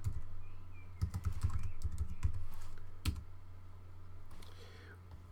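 Typing on a computer keyboard: close, quiet clatters of keys in short bursts with pauses between them, over a low steady hum.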